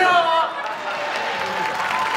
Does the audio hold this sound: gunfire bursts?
no